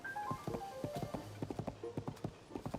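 A horse canters along in the Tears of the Kingdom video game, unable to go faster, its hooves beating a steady, fairly close clip-clop rhythm with a few faint tonal game sounds mixed in.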